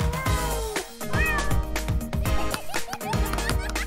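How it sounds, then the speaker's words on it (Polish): A kitten meows repeatedly in short, bright calls over a busy, loud musical background with no talking. "Twój pierwszy kotek."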